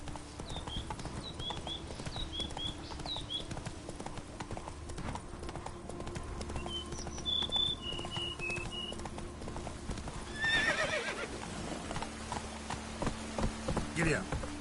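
Horse hooves clip-clop in a steady rhythm under continuous background noise in a PS4 video game, with a couple of higher whinnies partway through and a brief neigh near the end, moderately loud.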